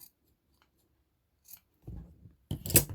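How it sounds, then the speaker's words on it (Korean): Scissors snip thread during traditional Korean needlework, a few short crisp cuts in an otherwise quiet room, the last one loudest and closest. "가위질을 해서 이렇게 두 개를 만들어 놨어요"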